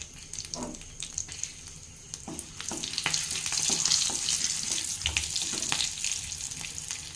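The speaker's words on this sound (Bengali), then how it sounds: "আর এই গরম তেলে আমি এখানে দিয়ে দেবো এখন 5 ফোড়ন।" Panch phoron and a slit green chili fry in hot oil for a potato curry, producing a close, steady sizzle with scattered crackles and pops and occasional soft stirring noises.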